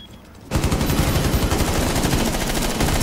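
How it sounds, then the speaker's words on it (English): Heavy automatic gunfire from the video game Rainbow Six Siege bursts in after a half-second lull, then rattles on loud and nearly continuous with rapid overlapping shots. "There is so much gunfire."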